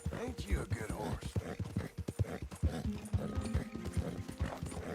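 Horse hooves clip-clop at a steady walking rhythm in Red Dead Redemption, the mount a seal brown Thoroughbred, close and clear, with a soft whinny and a voice talking over the steps.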